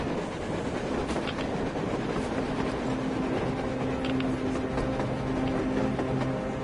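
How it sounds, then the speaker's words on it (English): A train rolls past on the surface in the video game Metro Exodus, a continuous rumbling clatter of railcars with a faint steady whine over it, unbroken and fairly close, with no voices. "A train! A damn train on the surface!"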